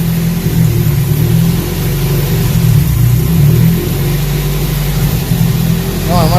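A Toyota 3S-GTE car engine fitted with a Microsquirt v3 runs loudly and close by, a steady rumbling drone with slight revving fluctuations throughout, while a voice speaks briefly near the end.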